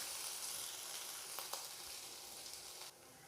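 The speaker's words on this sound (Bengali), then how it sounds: "তো হালকা আমি আদাটা ভেজে নিয়েছি" Chopped ginger lightly frying in oil in a pan for a cauliflower and green pea dish, a soft continuous sizzle with a couple of brief stirring clicks, quiet and without speech.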